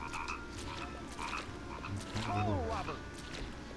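Frogs croak in the Nightmare Before Christmas: Oogie's Revenge game, a low throaty croak swelling in the middle over steady faint ambience, with soft game tones around it.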